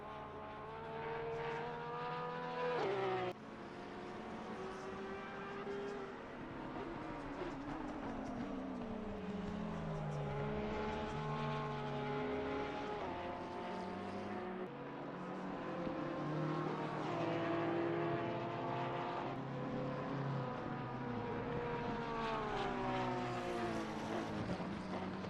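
A Porsche 992 race car in a racing video game at Oulton Park, its engine droning continuously and rising and falling in pitch through gear changes and corners over about 25 seconds, steady and fairly loud with no talk.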